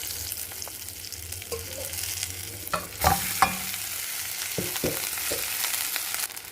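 A spoon stirs cooked rice into a tamarind tempering in a pan for yellow rice, giving a soft continuous sizzle with irregular scraping clicks and a few louder knocks of the utensil, close and without talk.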